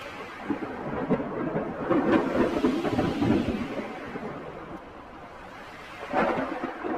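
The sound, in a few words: rain falling in the jungle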